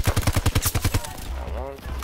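A rapid burst of automatic gunfire in Battlefield, about ten evenly spaced loud shots in one second, followed by a low rumble and a short tonal sound.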